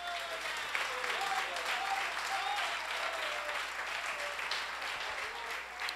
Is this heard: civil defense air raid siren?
no